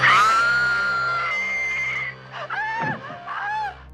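An actress screams in a horror film, a long, shrill, sustained scream that fades, then breaks into shorter sobbing cries, loud and close.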